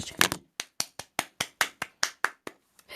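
About a dozen single hand claps come close and at a slow, fairly even pace, a makeshift applause effect made by one person during Mobile Legends gameplay commentary.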